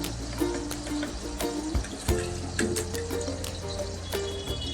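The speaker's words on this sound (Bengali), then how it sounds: "আমি ফ্যানটা ঝরিয়ে নিয়েছি।" Starch water poured off boiled rice splashes and gurgles continuously at close range, a steady watery rush with occasional sharper splashes.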